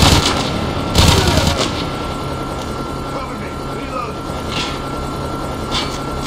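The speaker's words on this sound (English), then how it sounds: "Hostile stealth chopper inbound." A stealth chopper in Call of Duty hovers with a steady rotor drone, joined by bursts of gunfire and distant game announcer voices in a busy multiplayer match.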